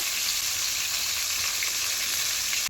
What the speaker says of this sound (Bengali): এইভাবে তো বাকি মাছগুলোও ভেজে নেব।